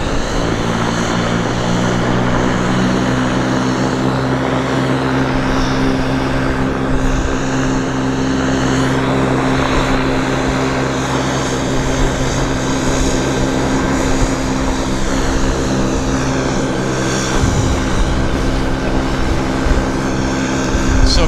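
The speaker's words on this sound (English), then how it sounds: "We've got multiple aircraft taxiing out. We've got this airplane starting engines." Aircraft taxiing and starting engines at Vancouver Airport, a loud continuous propeller and engine drone with steady whining tones and no voices.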